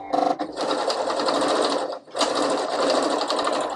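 Sewing machine running a straight stitch on Barbie dress fabric, two steady loud bursts of rapid needle chatter separated by a brief pause.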